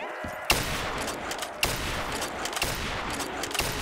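Rapid, sustained automatic gunfire from a weapon in Black Ops 3 custom zombies, loud and continuous throughout, with a few sharper shot peaks.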